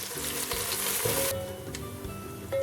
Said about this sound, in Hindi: प्याज को फ्राई करेंगे यहां तक कि ये ब्राउन हो जाए, डार्क ब्राउन हो जाए